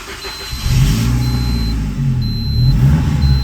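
A Saab 900 project car engine cranks and catches, then settles into a loud, close idle with slight revving and an uneven, rough note as it tries to stall.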